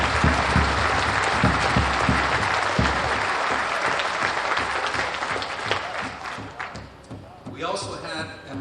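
An audience at a radio broadcast event gives a sustained round of applause, dense clapping close and loud that tapers off near the end as a voice begins speaking.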